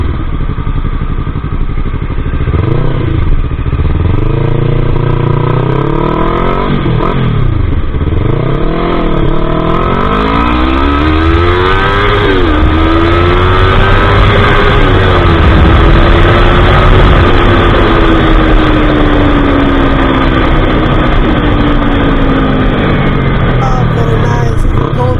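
A 2024 Yamaha YZF-R3 sports bike engine roars loud and continuous, revving up and down several times, then pulling through a long rising run of acceleration, recorded close with steady wind noise and no talk.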